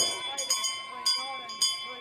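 A bell clangs repeatedly for the final lap of a track race at a Victorian Milers Club meet, three or four sharp ringing strikes over a steady crowd and announcer din.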